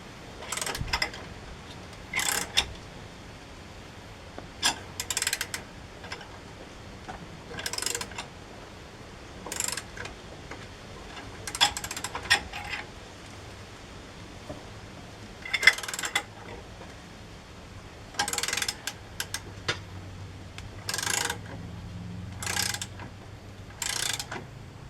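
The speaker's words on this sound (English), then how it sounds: "we'll try to get the ratchet on. Put a wrench on it." A ratchet wrench works on tight Loctite-coated bolts during rear brake replacement on a Chevy Silverado, with repeated short bursts of rapid clicking separated by quiet pauses, close and distinct.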